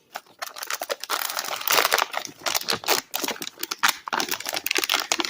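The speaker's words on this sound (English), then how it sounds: "let's just go ahead and cut this open" A sealed bag holding a forged carbon fiber part for a Foxbody Mustang steering column cover being cut open, with close, loud crinkling and rustling plastic in quick bursts and short snips, no talk.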